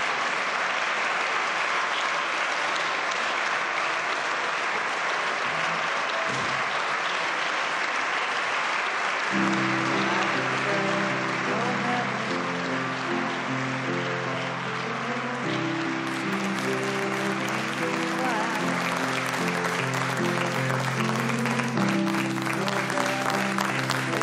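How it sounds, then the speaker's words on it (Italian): Long sustained applause in the Italian Senate as members give a standing ovation, dense steady clapping from a large room for over twenty seconds, with organ-like tones or hum joining partway through. "quell'applauso, quella standing ovation per Liliana Segre"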